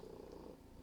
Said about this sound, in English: joining me tonight are my cat, Kai